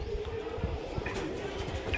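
A male pigeon coos softly through steady background noise at a pigeon sale, its low murmur running across the short stretch with no talk over it.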